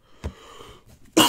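A single short cough bursts out close by, preceded by a quieter throat sound and a faint breath.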